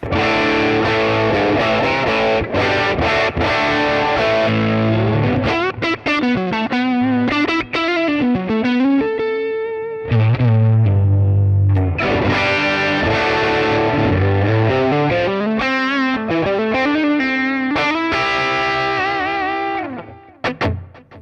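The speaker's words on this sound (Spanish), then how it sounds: "Tenemos esta distorsión que es una MXR." Electric guitar played through the MXR distortion emulation of a Nux MG300 multi-effects unit, with a small delay and light reverb: loud, continuous distorted chords and melodic runs with sustained notes, played alone for about twenty seconds.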